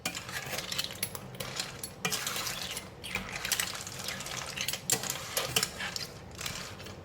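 A spoon clinks and scrapes in a pot as evaporated milk is added to tom yum clam soup, giving irregular metallic taps and light stirring noise close by.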